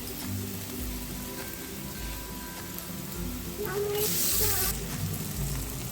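Onions frying in oil for a crab curry make a continuous soft sizzle beneath a low hum, with a louder hissing surge briefly near the end.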